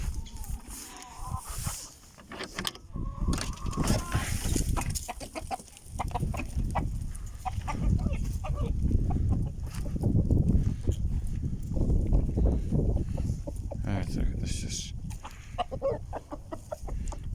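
Chickens cluck and murmur close by in an irregular stream of soft calls, with scratching and shuffling noises mixed in.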